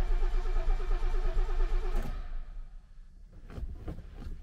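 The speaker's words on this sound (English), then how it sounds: "turn the ignition on." A 1972 Mercedes-Benz 280 SE W108 with a mechanical fuel-injected engine runs with a steady mid-pitched idle and some clatter for about two seconds, then cuts off, leaving quieter, faint mechanical knocks close by.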